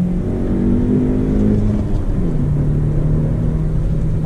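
Jeep Renegade 1.8 manual from 2018 driven on track, engine humming loudly from inside the cabin, pitch dipping and rising as it revs through a heel-toe downshift.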